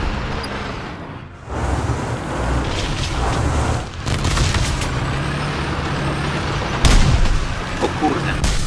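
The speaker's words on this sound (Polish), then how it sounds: "Ło, ale bomba!" Bomb explosions in the War Thunder combat video game: deep booming blasts over a constant rumbling engine and battle noise, with a sharp heavy impact near the end and a few fainter thuds before it.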